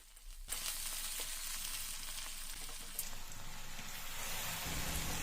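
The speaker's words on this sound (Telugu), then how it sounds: "హీటర్ ఆన్ చేసుకొని కొంచెం ఆయిల్ పెట్టుకొని జీలకర్ర ఆవాలు వేసుకున్నాను అవి ఫ్రై అయిన తర్వాత పచ్చిమిర్చి వేసుకున్నాను వెల్లిపాయలు వేసుకున్నాను" Cumin, mustard seeds, green chillies and garlic frying in hot oil, starting with a sudden loud sizzle as they go in and then a steady, close hiss with crackles, with no talk.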